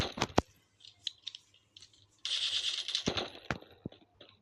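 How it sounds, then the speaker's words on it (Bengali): Gunfire in a shooting video game: sharp single shots and short bursts, then a sustained rattling automatic burst, loud and close with quiet gaps between. "ওই যে ভাই ওখান থেকে গুলি আসতেছে"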